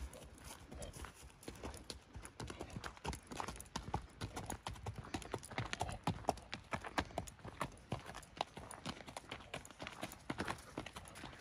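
Horses' hooves clip-clop in a dense, uneven run of sharp clattering steps, fairly close and steady throughout, with no clear talk over them.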